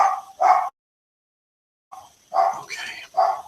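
A dog barks in short bursts, two quick barks followed by a silent pause and then a cluster of several more, close to the microphone and with no talk over them.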